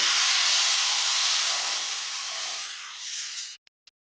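Water poured into a hot pan of ichor (jackfruit) curry hisses loudly at first, then the steam sizzle gradually fades over a few seconds before cutting off, followed by two tiny clicks.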